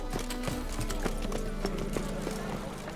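Horse hooves clip-clop at a steady trotting rhythm in The Witcher 3 Next Gen Update, played on a Steam Deck. The hoofbeats are close and distinct over a continuous low game background.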